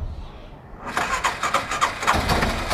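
A petrol engine on a homemade final-year project vehicle starts up with a sudden burst after a quiet moment, then runs loud and close with a steady, slightly uneven idle.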